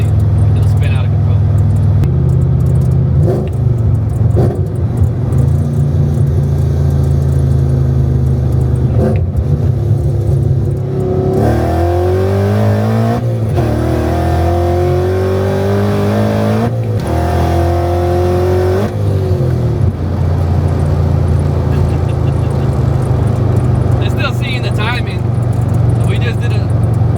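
A 700 hp Ford Mustang accelerating hard in fourth gear, its loud engine roaring and climbing in pitch through a long pull before settling back to a steady drone, with people talking over it inside the car.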